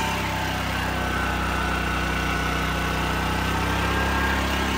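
A conventional generator engine runs steadily, a loud, even drone with a constant low hum and vibration, no talk over it.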